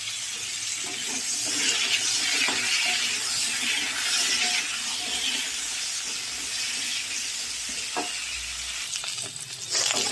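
Potatoes and green plantain pieces frying together in oil, a loud continuous sizzle up close with occasional stirring scrapes and bubbling, no voices over it.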